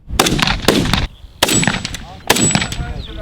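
Three loud, sharp rifle gunshots spaced about a second apart, each with a short echoing tail, heard outdoors at close range on a shooting range.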